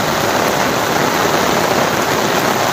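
Heavy rain pours in a steady, unbroken hiss, loud and close, with no voices and no change in intensity across the whole stretch.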